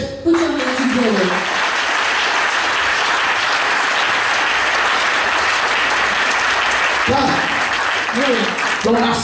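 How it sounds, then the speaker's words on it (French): A church congregation bursts into sustained applause, loud and dense, with a speaker's voice heard briefly at the start and again as the clapping fades toward the end. "Put your hands together."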